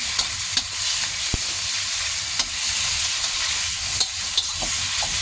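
Pork liver sautés with garlic in oil in a pan, a steady close sizzle broken by several sharp clacks and scrapes of stirring.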